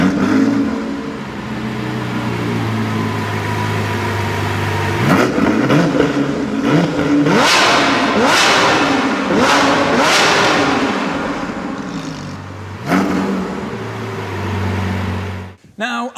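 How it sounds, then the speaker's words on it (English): A Lamborghini Sian V12 hybrid engine idles loudly, then revs hard in a series of sharp throttle blips before settling back to a steady idle, ending with a brief cut. "blast out the sound of that glorious V12 engine"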